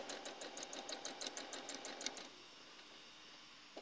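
Sewing machine stitching log cabin quilt pieces, a rapid run of close mechanical needle clatter for about two seconds before it stops, leaving quiet room tone.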